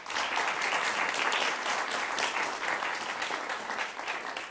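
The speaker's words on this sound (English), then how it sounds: "So we give the teachers a round of applause for all their work?" A concert hall audience at a children's Suzuki piano concert applauds the teachers, a dense, steady wash of many hands clapping at full volume throughout, with no pauses.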